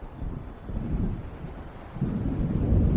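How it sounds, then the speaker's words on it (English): A low, rumbling roll of thunder from an approaching storm in Alan Wake Remastered, heard by a lakeside shore. It swells steadily and grows heavier toward the end, a continuous deep roar with no speech over it. "It seems there's a storm coming."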